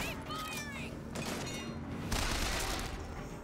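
Enemy gunfire crackles in the first-person shooter Bioshock Infinite, bursts of shots and booming impacts layered over a dense battle noise with whistling tones, continuous and fairly loud.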